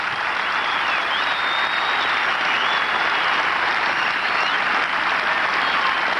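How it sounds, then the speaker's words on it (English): Gallery crowd at the 1988 Open Championship applauding golfer Sandy Lyle walking up the 18th hole, a broad, continuous wash of clapping from many spectators held at an even level throughout. "Sandy Lyle, a walk-up 18, and his applause"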